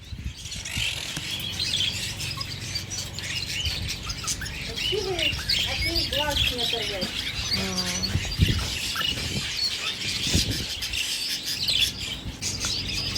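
Parrots in a bird shop chirp and call in short, rapid bursts over a busy, continuous background of other birds, with sharp calls clustering mid-clip at moderate loudness.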